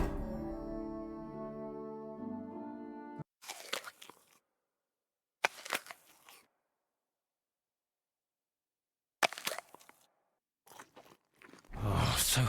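Several separate bursts of crunchy chewing and biting, each a second or so long, separated by silence, after a sustained low tonal drone, in the video game Kingdom Come: Deliverance 2.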